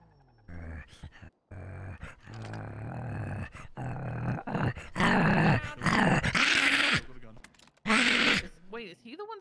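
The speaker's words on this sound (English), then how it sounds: "Wait, is he the one snarling?" A creature in a video game snarls and growls in rough, throaty bursts, loud and close, overlapping with excited talk from players.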